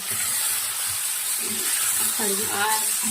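Chicken pieces tossed with softened tomato sizzle steadily in a pan for curry, being stirred until the moisture cooks off, with a continuous hiss under a few brief spoken sounds.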